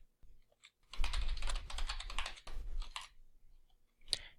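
Typing on a computer keyboard to enter an address, with quick bursts of close, crisp key taps, short pauses between runs and a final isolated keystroke.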